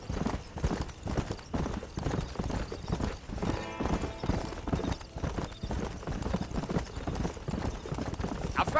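Horse hooves clip-clopping in the Red Dead Redemption video game, a rapid rhythmic trotting beat throughout, with a short whinny partway in and faint voices in the background.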